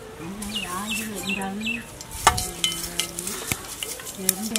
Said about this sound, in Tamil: எண்ணெய் நல்லா சூடாயிடுச்சு இப்போ கடுகு சேர்த்துக்கலாம்